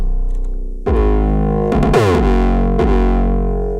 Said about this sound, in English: So as you can hear, this Fuzz Distortion in Reaper can